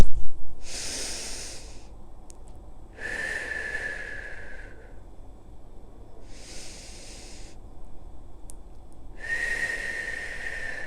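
Four slow, deep breaths are taken during a stretching routine, each a long airy whoosh of a few seconds separated by short pauses, close and clear, some with a faint whistling tone.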